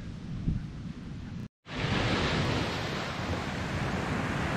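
Steady roaring wind mixed with ocean surf on an island coast, broad and loud, broken by a brief cut of silence before the rushing noise resumes.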